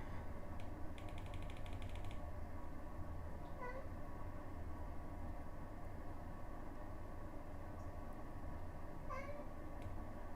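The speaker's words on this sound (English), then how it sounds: "My cat is very upset about something." A house cat meows a few times, faint and short, over a steady low background hum, with a short mechanical rattling burst near the start and no talking.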